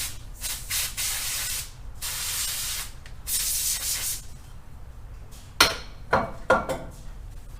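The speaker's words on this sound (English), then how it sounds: "Apply a little tiny bit of brake clean." Brake cleaner is sprayed onto a clean rag during an oil cooler thermostat gasket job, in three close hissing bursts, followed by a few light clinks of parts or tools.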